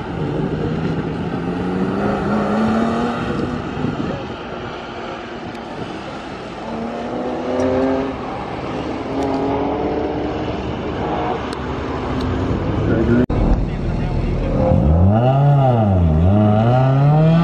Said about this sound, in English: This is a 50 horsepower Geo Metro out here getting it and putting down solid times.